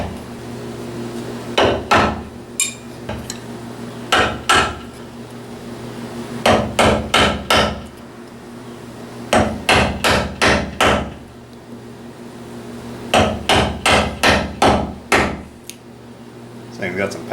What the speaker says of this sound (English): I may not be the best at cutting mortises, but you gotta learn somewhere.